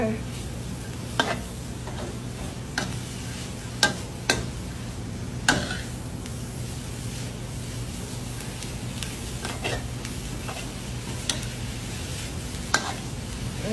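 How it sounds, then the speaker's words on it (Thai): Water mimosa stir-fried quickly in a pan over raised heat, a continuous moderate sizzle broken by regular sharp clicks and taps of a spatula against the pan. "ผัดผัดผัดมันอยู่รวดเร็วเราเพิ่มไฟหน่อยนึง แล้ว ผัดไปผัดไป"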